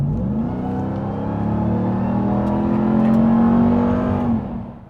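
A 2024 Ram TRX Final Edition pickup accelerating hard, its engine note climbing in a sustained loud rev before easing off at the end, with no talk.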